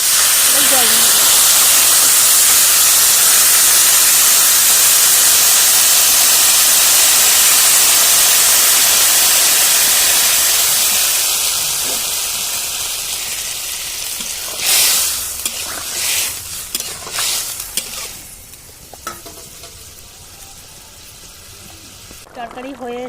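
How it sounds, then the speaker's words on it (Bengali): Water poured into a hot pan of curry with lotus stem and tilapia fish, a loud broad hiss of steam and sizzling that fades over the second half into scattered bubbling and stirring clatter. "জল ঢেলে দেবো।"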